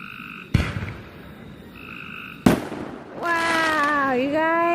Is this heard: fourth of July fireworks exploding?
yes